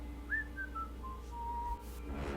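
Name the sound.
whistle sound effect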